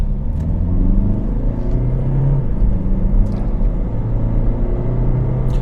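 Interior engine rumble of a 2015 Hyundai i30 under steady load, with the drone rising and shifting in pitch as it gathers speed, continuous and fairly loud.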